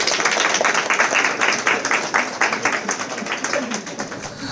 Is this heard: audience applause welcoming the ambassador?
yes